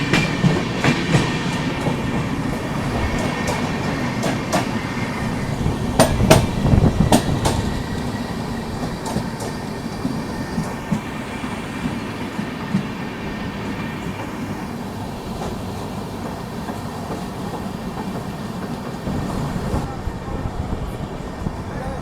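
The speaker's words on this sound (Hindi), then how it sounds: "यहाँ पर हम लोग उसको पैरेलली ओवरटेक कर रहे हैं।" Indian passenger train, the Garba Superfast Express, running at speed on a parallel track while overtaking the Gaur Express hauled by a WAP-7 electric locomotive; steady loud rumble with rhythmic wheel clatter throughout, no talk.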